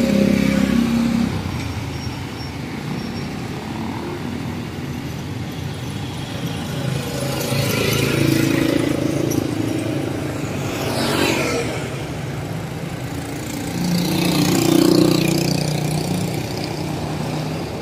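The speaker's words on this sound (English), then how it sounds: "When I'm behind this garbage truck," A garbage truck idles in traffic in Subic town, its engine a steady low rumble that swells louder a few times, with passing road noise and no talk.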